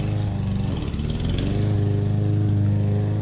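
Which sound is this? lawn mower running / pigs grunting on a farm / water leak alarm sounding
lawn mower running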